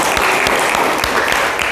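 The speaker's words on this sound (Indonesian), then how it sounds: "Tepuk tangan untuk Bapak Ibu sekalian." A classroom or seminar audience claps together in a brief burst of dense, even applause, with a few sharper individual claps standing out.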